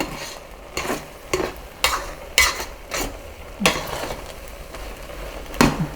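Rice cooking in a pot is stirred with a utensil, giving a series of distinct scraping strokes spaced irregularly over a low background simmer, close and fairly clear with no talking.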